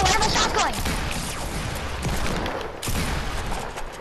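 Rapid gunfire in the video game Fortnite, dense bursts of shots and impacts layered over one another, loud and busy, with a player's voice mixed in.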